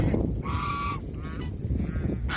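A domestic goose honks repeatedly at close range, its nasal calls standing out over a constant outdoor background hum.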